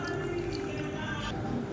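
Water trickles and drips steadily into a mixie grinder jar being rinsed after grinding chutney, a continuous close liquid pour with no voices.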